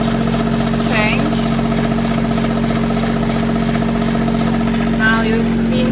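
A 50L perfume making machine running its mixing function produces a loud, steady motor hum with a constant low drone and mechanical whine throughout, while people talk faintly over it.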